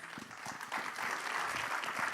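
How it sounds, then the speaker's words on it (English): A crowd applauds steadily at the MEWA 2025 inauguration event, continuous dense clapping from a large audience that swells slightly after the first moment and holds through the short stretch. "big round of applause."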